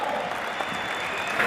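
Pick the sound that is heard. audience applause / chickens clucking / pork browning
audience applause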